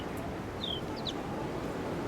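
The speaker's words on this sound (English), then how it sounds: "That's a male house sparrow" A male house sparrow in a parking lot gives a few short, high chirps. The calls are thin and moderately distant, heard over steady outdoor background noise with no talking.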